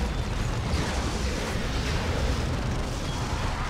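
Units, including a Carnifex, open fire in a Warhammer battle game, producing a loud, continuous roar of blasts and rumbling gunfire that fills the whole stretch without pause.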